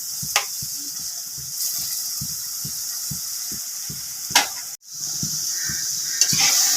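Onions sautéing in hot oil for a Tamil meen kulambu fish curry, a soft steady sizzle broken by regular stirring scrapes and an occasional louder clatter of the pan.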